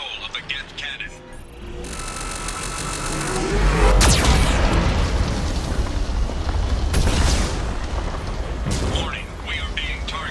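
Heavy Geth cannon blasts and explosions from Mass Effect 2, with a booming impact around four seconds and a sustained loud rumbling roar after, mixed with mechanical clanking and intermittent voice announcements.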